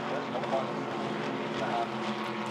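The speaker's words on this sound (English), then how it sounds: "Beautiful sound the V8 engines make as they thunder down the Bentley Straight" V8 racing engines from a Ginetta GT Championship race roar down Snetterton's Bentley Straight as a dense, sustained drone with speech layered over it.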